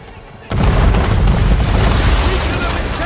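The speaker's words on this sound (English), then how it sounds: "Weaken her with chain shot, Captain! You'll sink her with that!" A ship's cannon fires chain shot in the Assassin's Creed 3 naval battle, a sudden loud boom that rolls into a sustained roar of blasts and battle noise, with voices shouting amid it.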